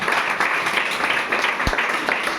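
A class claps for a correct answer in a quiz on political science: a short burst of dense, close applause that holds steady for a couple of seconds.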